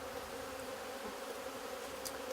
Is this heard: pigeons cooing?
no